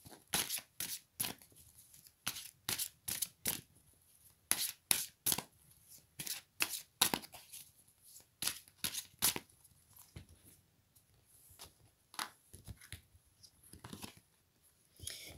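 Oracle cards being shuffled and drawn by hand, with short, crisp riffling and flicking bursts repeating in an uneven rhythm, close and fairly quiet, with no talking over them.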